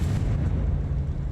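A Confringo spell blast in the Hogwarts Legacy video game, set inside a small mine: a loud, dense, rumbling explosion that fills the whole moment with a heavy low boom and no voices.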